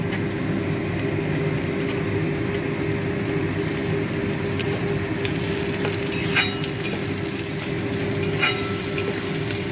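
Tomato and crushed ginger-garlic fry in a pan with onions for fish kofta curry, a steady loud sizzle with faint scraping stirs throughout.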